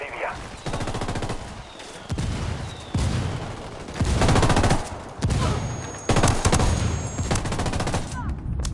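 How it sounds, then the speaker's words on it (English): Mortar fire in the video game Ghost Recon, loud repeated blasts and volleys of gunfire in several bursts over steady battle noise, with voices speaking in between. "Call Pacatari for some mortar fire."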